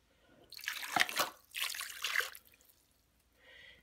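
Gravy and water mixture poured into a pot of beef stew, two short splashing gushes of liquid close by, followed by a faint trickle.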